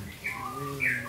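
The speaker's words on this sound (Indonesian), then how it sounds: "Ada kicau burung." Two short bright chirps from a bird, with a faint hum and soft background sounds between them.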